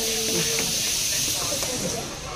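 A pressure cooker vents steam in a home kitchen during festive cooking, giving a steady, loud hiss that runs through the whole stretch with faint background voices beneath it.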